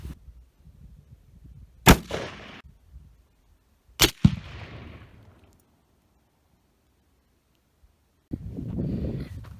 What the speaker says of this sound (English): So now let's go back at 100 yards and let's shoot it from there.